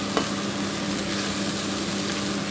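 Tomato curry with beans frying in a pan on a medium flame, a continuous even sizzle and crackle up close, steady throughout with no voices.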